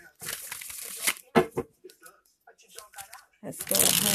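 Tarot cards being shuffled by hand, giving a few crisp riffling and rustling bursts up close, separated by brief gaps. A soft voice may be heard between them.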